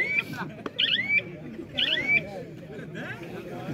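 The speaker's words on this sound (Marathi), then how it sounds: "दरम्यान बीपचा आवाज येतोय." High electronic beeps sound in several short repeated bursts at a village-ground kabaddi match, over a commentator's voice and crowd chatter.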